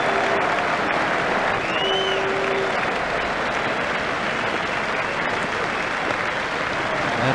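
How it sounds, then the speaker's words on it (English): Steady crowd applause and cheering in a cricket video game fills the whole stretch, a dense continuous roar of clapping with a faint tone drifting in and out. "Batsman raises his bat to the crowd to acknowledge the applause."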